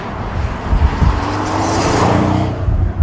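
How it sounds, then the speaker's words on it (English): A powerful Pagani supercar engine roars past with rising, deliberately tuned turbo whoosh and crackling, fizzing wastegate rattles, loud and close throughout. "that has got deliberately tuned turbocharger noise, and there's wastegate rattles and fizzles"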